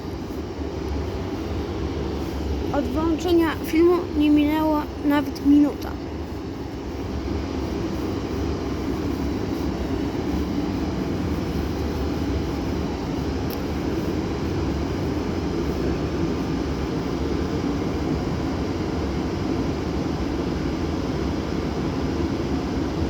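Train approaching Zawiercie station in Poland, a steady low rumble and drone building through the clip, with a brief spoken announcement early on and no other talk.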